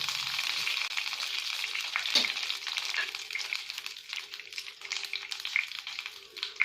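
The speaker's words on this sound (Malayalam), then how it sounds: "ഇനി കുറച്ച് കറിവേപ്പില കൂടി ചേർത്ത് കൊടുക്കാം." Curry leaves sizzle and crackle in hot oil while a black chana curry is cooked, a steady close frying hiss with a brief clatter and faint stirring.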